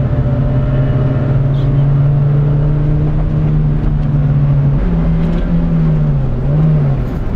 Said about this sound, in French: la BM est bien plus bruyante que ma voiture